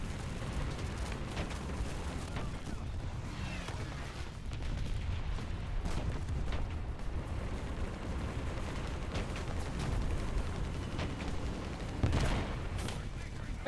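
Gunfire hitting the player's vehicle in War Thunder, scattered sharp cracks and thuds over a low rumbling battle din, fairly faint, with a voice talking intermittently.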